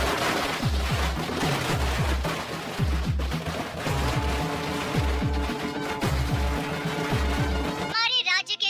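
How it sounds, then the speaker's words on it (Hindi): Diwali firecrackers burst in a dubbed South Indian movie scene, rapid strings of sharp pops and cracks in irregular clusters over a dense soundtrack, then a brief different sound at the end. "जल्दी से पटाखे जलाओ"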